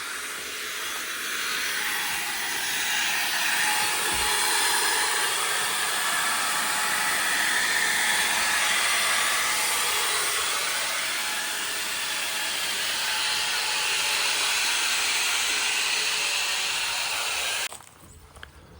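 A rendering paddle mixer runs on a Thai house build site, a steady loud hissing whir that holds for about seventeen seconds before cutting off abruptly into near quiet.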